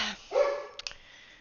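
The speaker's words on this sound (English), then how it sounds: "off in the distance, you can hear a barking dog." A single dog bark rings out, followed by a short whimpering tone and a few faint clicks, heard in a game scene near a dock with moored boats.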